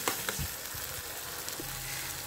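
Curd stirred together with spices in a hot pan, a steady close sizzle with a few soft spoon scrapes and knocks near the start, no voices.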